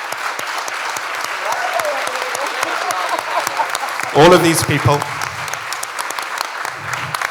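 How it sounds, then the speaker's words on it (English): Audience applause at a summit's final panel, a steady wash of clapping from a crowd running throughout, with a voice speaking over it and a brief louder burst of talk partway through. "Can we have a big round of applause for everyone who's been centrally involved in getting the last few days together?"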